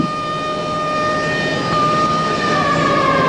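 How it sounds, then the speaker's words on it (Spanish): Steady sustained wail of the Cementos Alfa cement factory sirens sounding in Reinosa as a funeral tribute to a dead worker, several tones held continuously and loud, with a slight shift in pitch toward the end. "se escucharon las sirenas de la factoría Cementos Alfa en homenaje al trabajador fallecido"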